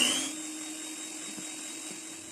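An electric beater whirs steadily as it mixes condensed milk into a French toast batter, a close, continuous motor whine that fades slightly after a louder start.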